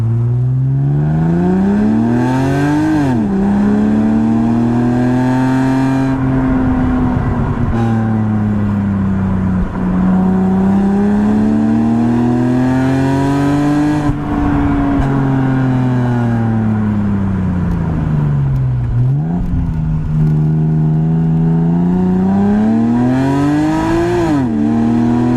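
A car with an N52 engine and a Magnaflow muffler drones loudly and continuously, its pitch swelling and falling in slow waves with a few quick blips of revving, no voices.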